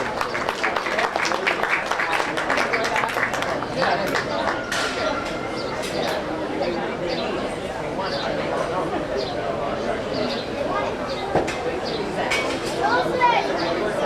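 Spectators at a county fair swine show applaud after a gilt is judged, a long, steady patter of clapping spread through an indoor show barn with voices and ambient chatter underneath.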